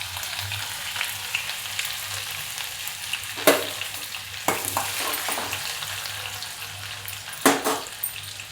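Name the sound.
garlic and ginger frying in hot oil with mustard seeds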